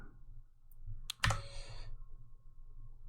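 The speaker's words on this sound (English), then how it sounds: "I try typing in some values here." Keys on a computer keyboard are tapped while values are entered, a short cluster of clicks with one sharper keystroke, faint and close with no talk.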